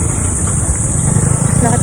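A small motor tricycle's engine drones steadily and loud close by on a hot street, a continuous mid-pitched running sound with no pauses.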